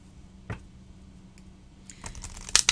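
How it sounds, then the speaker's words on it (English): A deck of Dog Wisdom oracle cards is shuffled by hand, a single soft tap early on, then a growing cluster of crisp card clicks and slaps near the end. "I'm going to shuffle 3 times, and then we're going to cut"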